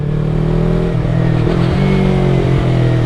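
A motorcycle with headers and a silencer idles and revs in steady low rumbling pulses, close and loud throughout, with a muffled, throaty exhaust tone.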